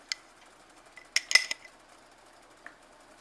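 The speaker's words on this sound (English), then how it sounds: "Stir that all together." Spoon stirring chili-beef vegetable soup with brown sugar in a pot: a few sparse metallic clinks and scrapes, with a small cluster in the middle, otherwise quiet.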